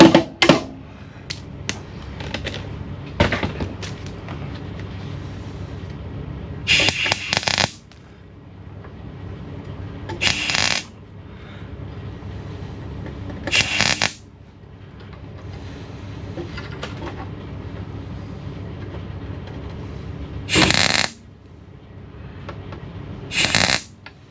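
Intermittent crackling bursts from tack welding a car sill repair, several short loud welds of one to two seconds each separated by quieter stretches of background hum.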